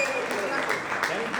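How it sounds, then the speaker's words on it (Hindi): Guests at a sangeet night wedding celebration clap in a short burst of applause, fairly loud and close, with voices mixed in. "एक और बार जोरदार तालियां चाचा जी के लिए।"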